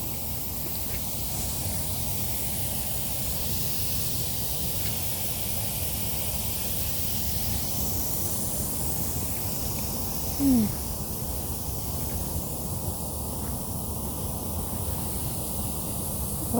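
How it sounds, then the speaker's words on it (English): Lawn sprinklers spray water up through cracks in a sidewalk at night, a steady broad hiss that runs the whole time at an even, fairly loud level, with no talk over it. "Oh, there's sprinklers."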